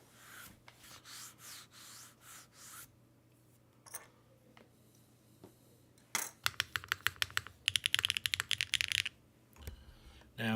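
Keys clatter on a QK65 keyboard with an aluminum plate and GMK Extended 2048 keycaps, soft rubbing strokes at first, then a quick burst of crisp close-up typing clicks.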